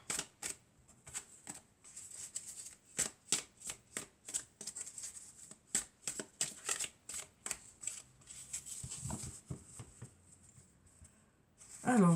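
Oracle cards being shuffled by hand, a series of crisp, rapid riffling bursts repeating in an irregular rhythm close to the listener, with a faint voice briefly under the shuffling.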